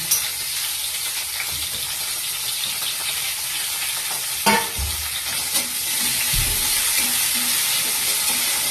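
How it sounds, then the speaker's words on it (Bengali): Chopped tomato and green chili masala frying in a pan, giving a steady close sizzle that runs the whole time, with a few brief stirring scrapes and knocks partway through. "দিয়ে আরো ভালোভাবে ভাজাটা হতে দিতে হবে"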